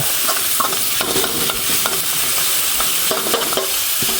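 Holy basil and century egg frying in oil while being stirred, a loud close sizzle with repeated metallic scrapes and clinks of a spatula against the pan, no voices.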